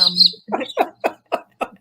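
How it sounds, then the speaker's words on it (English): Birds chirp outdoors in a series of five or six short, clear calls at a steady rhythm, fairly close and distinct, following a higher twitter at the start. "The birds are having at it behind"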